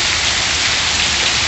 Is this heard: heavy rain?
yes